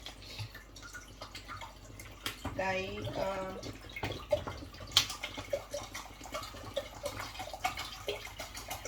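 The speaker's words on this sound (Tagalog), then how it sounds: "Ang akong ibutang aning nga tubig, dili tubig sa gripo, kundi sterilized nga tubig." Sterilized water poured into a pot while spaghetti carbonara is being made, a short burbling pour with dripping around it, under a person talking.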